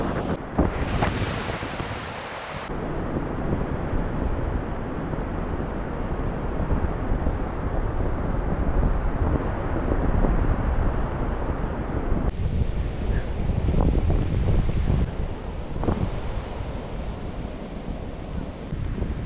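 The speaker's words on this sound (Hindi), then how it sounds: "इसका भी सी का आप आवाज़ भी देख सकते हो, जो ये लहरों का आवाज़ है" Sea waves roll in at Banaulim Beach in South Goa, a loud, continuous surf roar with heavy wind buffeting the microphone and breaking swells rising and falling throughout.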